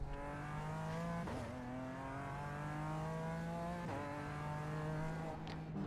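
A GT4 race car in the iRacing game at the Nürburgring holds a steady, buzzing engine note with rich harmonics, broken by two quick downshift blips and brief pitch drops, heard alone.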